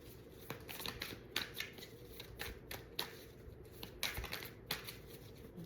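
Tarot cards are shuffled in quick, soft riffling bursts, several separate shuffles close to the listener, fairly quiet with brief pauses between.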